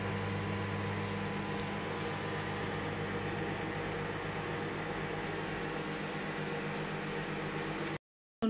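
A microwave oven hums steadily with a constant fan-like drone while a roti pizza topped with cheese turns inside, running without pause until it cuts off abruptly near the end.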